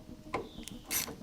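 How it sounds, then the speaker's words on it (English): A 10 mm ratchet turning the negative terminal nut on a car battery, heard as a few brief, close clicks of the pawl over about a second in a quiet space. "Disconnect that negative terminal"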